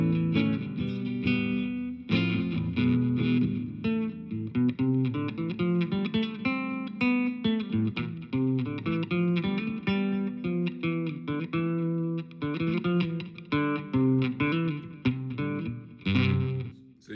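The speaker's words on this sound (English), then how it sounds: "So you get the idea of a surfer sound." Electric guitar playing surf-style music through a Spark Mini battery-powered amp on its Surf 66 preset: a continuous, effects-laden, slightly driven melody with plucked notes and chords, loud and close, with no talking.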